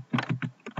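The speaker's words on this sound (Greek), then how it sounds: "Γράφουμε το όνομα της σελίδας που θέλουμε." Fingers type on a computer keyboard in a quick run of about six close, distinct key presses with no talking.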